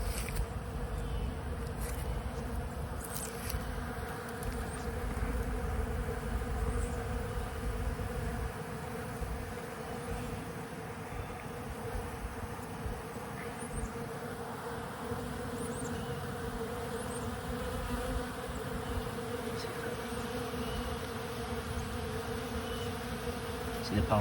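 Honeybees foraging at an outdoor pollen feeder near their hives, a dense continuous buzzing drone of many bees in flight, close and steady throughout with no talking.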